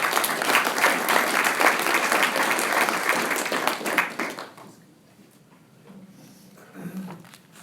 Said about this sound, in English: let's give Ted a round of applause